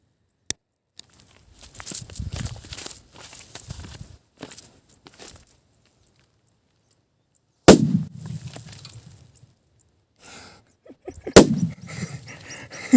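Fireworks being tested go off as sharp, loud bangs, three distinct blasts spread out in time, each followed by crackling and rumbling tails, with quieter rustling in between.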